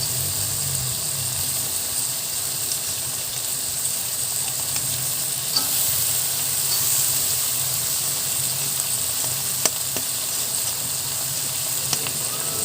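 Washed bean sprouts (togue) hitting a hot pan with tofu, a loud continuous dense sizzle and hiss close by, with faint stirring clicks throughout and no talking.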